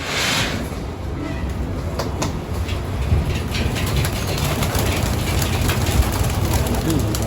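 Pigeons in a colony breeding loft, with steady cooing and fluttering bird activity under a constant broadband background hum, fairly loud and continuous throughout.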